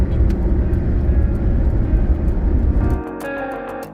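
Car driving on the road toward Pandharpur, heard from inside the cabin as a loud, steady engine and road rumble that drops to a quieter hum near the end, with no talking.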